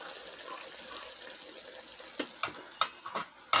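Broth being drained off freshly cooked pancit, a steady soft pour of liquid followed by a series of sharp splashing clatters near the end.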